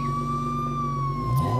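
Siren of a small, fast RC toy police car, a steady electronic wail held close and loud with a strong unwavering tone and harmonics, heard alone without talk.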